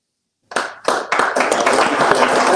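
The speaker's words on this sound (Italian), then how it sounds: "L'applauso per il mister Pallino" Applause for a football coach at a club gathering in Italy, starting with a few separate claps and swelling into steady, close group clapping.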